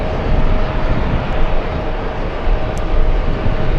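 An Etihad Airbus A380 produces a dense, rumbling jet roar that holds steady and fairly loud, with no speech over it.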